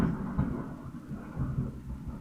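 Thunder rolling after lightning in World of Warcraft, a deep, muffled rumble with a couple of swelling surges over a couple of seconds, no voices.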